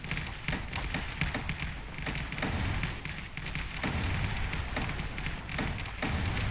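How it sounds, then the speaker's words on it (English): Sustained weapons fire in the game Space Engineers, a dense stream of rapid thuds and taps with scattered sharper bursts, continuous and fairly faint, with no talk over it. "Look at just that stream of weapons fire"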